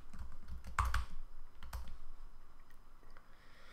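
Python code being typed on a computer keyboard: a handful of soft, quiet key clicks in a loose, uneven rhythm, with two firmer taps standing out, against a faint room background.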